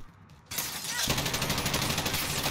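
Sustained automatic fire from a PKM machine gun in the Modern Warfare campaign, a dense rattling burst that starts abruptly and keeps a loud, steady rhythm to the end.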